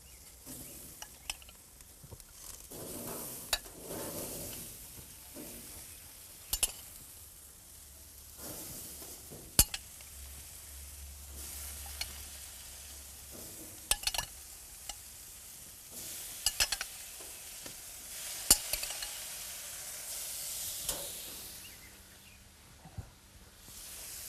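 Vegetables in a grill basket on an outdoor grill give a faint, low sizzle, broken by scattered sharp clicks and scrapes as they are tossed, no voices.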